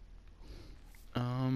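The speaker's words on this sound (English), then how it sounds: "There's the baby zombie sound." A baby zombie in Minecraft gives a short, high, tonal squeal that starts suddenly and holds strong near the end, after a stretch of quiet game noise with no talking.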